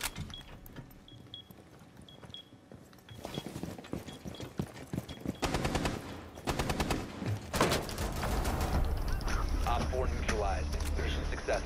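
Hip-fire gunshots in a first-person video game ring out as scattered cracks, then swell into dense, rapid automatic bursts that grow louder and more continuous toward the end.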